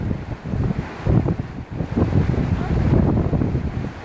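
Wind blowing outdoors beside a creek in Yosemite National Park on a Pacific Crest Trail hike, a rough, gusty rumble buffeting the microphone, rising and falling in strong surges with no voices.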